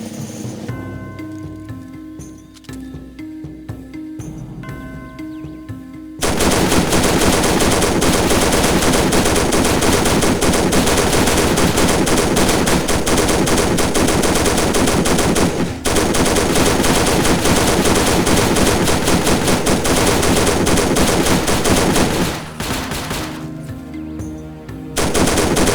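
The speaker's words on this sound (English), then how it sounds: "use a machine gun to hit the targets" Sustained machine gun fire in the Faces of War video game, a dense continuous roar of rapid shots at targets lasting many seconds, loud and close, with quieter game ambience before and after.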